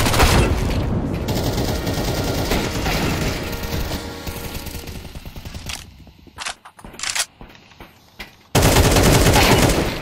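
Rapid bursts of automatic gunfire in Counter-Strike 2 on the Vertigo map, dense and loud for several seconds, then thinning into a few scattered shots before another loud burst.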